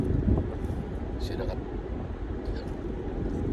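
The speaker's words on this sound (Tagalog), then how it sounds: "Narinig nyo yung sounds ng makina, talagang ugong eh." A vehicle's engine hums low and steady while engine braking downhill in second gear, under wind buffeting and someone talking.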